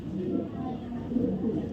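A female racing pigeon from a club coos in soft low rolling phrases, close by and continuous through a brief moment, without speech.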